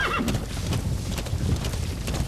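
A horse gallops in the Metal Gear Solid V video game, its hooves pounding a quick, steady clip-clop rhythm up close, opening with a brief whinny.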